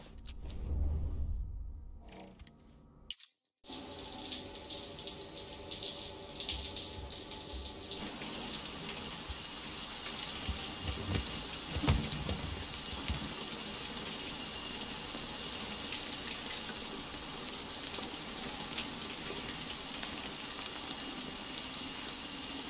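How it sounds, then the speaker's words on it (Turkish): Shower water in the video game Death Stranding, a steady broad hiss of running water that starts after a brief burst of other noise and continues evenly for about twenty seconds, moderately close, with no talk. "Bizim çocuğa bir duş aldıralım."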